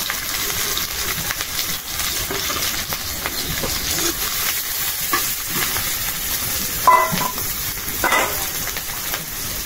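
Garlic and green chilies fry in a pan, giving a steady, close sizzling hiss that runs throughout with occasional stirring scrapes.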